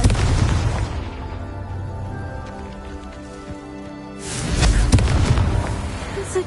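A Confringo fire spell from the Hogwarts Legacy video game explodes in a booming burst, its rumble decaying over several seconds before a second loud blast erupts and rolls on.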